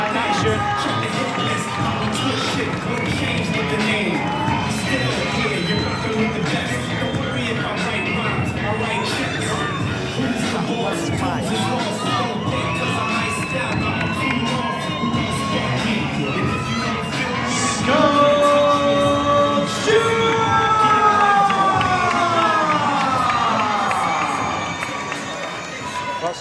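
A crowd at a Muay Thai fight event cheers, shouts and whistles for fighter Scott Stewart, a loud, continuous roar of voices that swells near the end.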